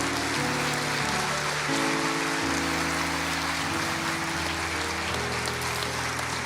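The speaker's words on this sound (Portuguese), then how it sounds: "Dê uma salva de palmas." Church congregation applauding together in a continuous dense patter of clapping, steady and fairly loud, with sustained organ or keyboard chords underneath and no talk.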